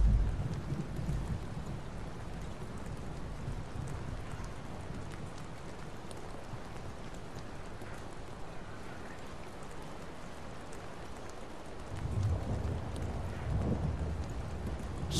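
Steady rain with rumbling thunder in the Far Cry 5 video game on a custom city battle map, a continuous hiss of rainfall with a deeper swell of thunder near the end.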